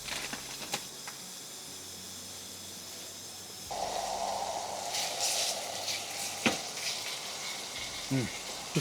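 A Jetboil camping stove lights with a click and settles into a steady, close breathy roar in a cold, snowy Alaska wilderness camp, with scattered clicks and knocks of handling over it.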